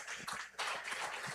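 An audience at a church conference in Maceió applauds, a steady, dense wash of hand clapping heard at a moderate distance throughout.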